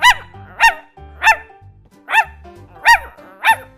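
Dogs barking in the Minecraft video game, six sharp, evenly spaced barks in a steady rhythm, loud and close with no talking over them.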